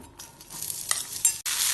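Chopped beetroot sizzles in a pan with a little leftover frying oil as it is stirred and sautéed, a close, steady crackle with scraping strokes.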